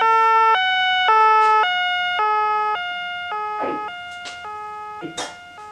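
A police siren in a comedy ad wails in a loud two-tone alternating pattern, the repeating high-low cycle sounding close and clear, fading slightly toward the end under a few brief sharp noises.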